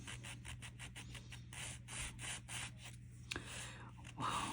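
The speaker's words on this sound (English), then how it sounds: "just try to sand the back" Sandpaper rubbing on the back of a polymer clay bead, quick close rhythmic scratchy strokes repeating, quiet, then a few pauses and lighter rubs.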